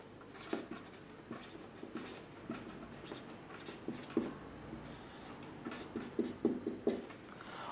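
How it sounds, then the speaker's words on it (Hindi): Pen or chalk scratches out an equation by hand for a substitution-method math lesson, a series of faint, close strokes and taps in uneven clusters over a quiet background. "तो यहाँ पे ये लिख लेते हैं"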